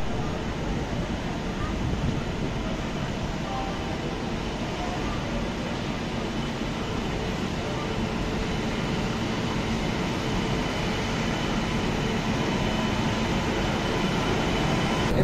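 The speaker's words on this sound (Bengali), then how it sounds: "এদিকে 5 নম্বর প্ল্যাটফর্মে ঢুকলো আহমেদাবাদ হাওড়া এক্সপ্রেস, আর আমাদের ট্রেনকে ছাড়লো।" The Ahmedabad Howrah Express rolls into platform 5 at a station with a steady rumble and hum that stays level throughout, heard from on board another train.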